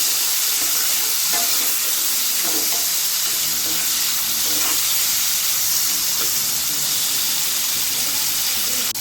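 Chopped capsicum and tomatoes with salt frying in a hot pan for begun bahar, a loud continuous sizzle and hiss with scraping stirring strokes close by.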